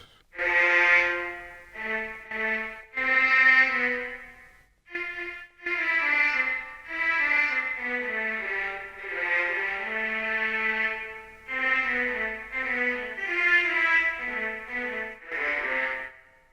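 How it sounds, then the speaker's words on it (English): A string instrument plays a slow, halting melody of sustained notes with short pauses between phrases, solo and close. "It's a string instrument."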